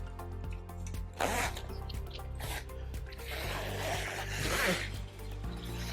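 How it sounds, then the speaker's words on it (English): A zipper on a bed bumper pad is drawn in several rasping pulls, near and moderately loud, over a low steady background hum. "take the zip for the next bumper"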